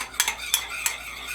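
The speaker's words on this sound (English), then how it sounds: "So you gotta keep mixing it until it gets nice and smooth in the mug" A spoon clinks against the sides of a mug while stirring a milk face-mask mixture, three or four sharp near taps spaced irregularly over soft scraping.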